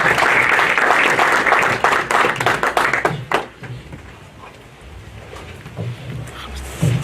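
A loud burst of audience applause at a commemorative ceremony welcoming a speaker, dense clapping for about three seconds before it thins to scattered claps and low room noise, with faint voices underneath.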